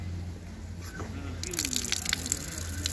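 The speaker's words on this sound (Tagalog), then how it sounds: "May gripo din ito." Water runs and splashes from a public tap in a park, starting partway through and gushing irregularly, with a faint voice faintly under it.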